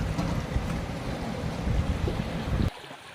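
Water flows and splashes at the Kaluni Jhar waterfall by the Maa Ramchandi shrine, a dense, loud close-up roar with heavy low rumble that cuts off abruptly near the end, leaving faint quieter background.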